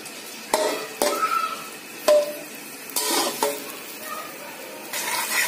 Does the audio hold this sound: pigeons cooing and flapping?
no